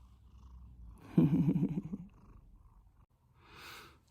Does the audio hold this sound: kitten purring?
yes